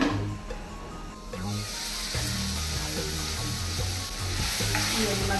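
Vegetables sizzle steadily in a hot pan while a utensil stirs them in repeated scraping strokes, close and continuous, with no talking.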